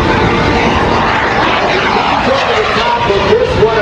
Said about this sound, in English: he will roll the airplane upright